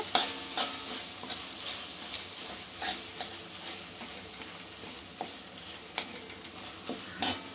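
A tomato and mint mixture sautés in a pan with a soft, low sizzle, broken by a regular rhythm of spatula scrapes and light metallic clinks, close and quiet with no voices.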